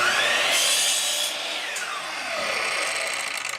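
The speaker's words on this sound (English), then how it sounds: "Now this is where you might want to use a different saw, because this thing takes off a good 1/8 of an inch, this blade" A power saw with a wide blade cuts through wood while segmenting, a loud close buzzing whine whose pitch sags and rises as the blade bites, lasting a few seconds.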